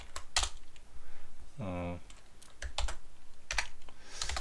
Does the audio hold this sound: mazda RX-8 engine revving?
no